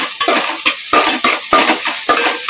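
Crushed garlic sizzles in hot oil in a pan for fish kulambu, with rhythmic stirring scrapes and clinks of a spoon against the pan repeating every half second or so over the steady frying hiss.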